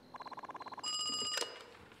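A telephone rings in the Knight Rider 2000 film: a quick electronic trilling ring pulses about a dozen times, then gives way to a steady tonal ring with a brief bright click, fairly quiet and heard alone.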